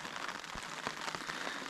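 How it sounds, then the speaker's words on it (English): Steady rain falls around a bikepacking camp in Wales at dawn, a dense hiss with scattered louder drops tapping close by, no voices. "getting packed up when it's raining"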